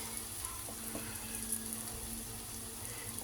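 Boiled eggs fry in a pan, giving a steady, quiet sizzle with soft crackles throughout and no one speaking.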